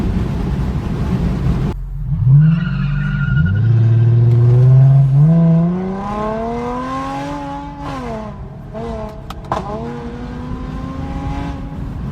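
A BMW engine revving loudly up close, climbing steeply, then easing into a steadier, quieter drone as the car cruises on, with a couple of short clicks near the end.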